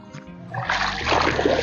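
Footsteps wading through water on the way to Dhumalwadi waterfall in Phaltan taluka, starting quietly and building into steady close splashing and sloshing.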